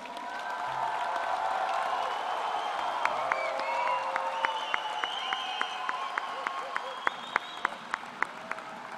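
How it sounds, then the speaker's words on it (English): Audience applauding graduates at the 2024 NBCC Moncton graduation ceremony, a steady wash of many hands clapping, with a single nearby clapper growing louder toward the end. "give an extra big round of applause for each of our graduates today"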